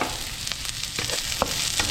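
Ginger dropped into a hot pan of golden-browned onion sizzles steadily, with a few light stirring scrapes and brief crackles close by, no talking.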